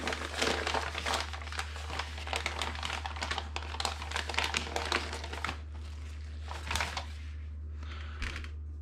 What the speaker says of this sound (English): Let me unwrap this